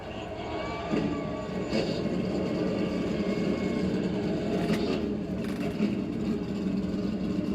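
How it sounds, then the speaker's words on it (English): Racing truck engines fire up and rumble together at Darlington Raceway before a 200-mile race, a dense, steady roar with a broad crowd-and-engine wash holding level throughout. "Drivers, start your engines."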